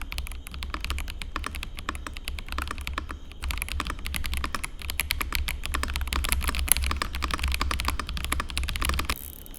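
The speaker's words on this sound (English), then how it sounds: "the sound that this keyboard makes while typing also feels very satisfying" Typing on a Kreo Swarm wireless mechanical keyboard with smooth, stable, non-clicky switches: a fast, close stream of soft tactile keystrokes, steady and continuous with brief pauses, no one speaking.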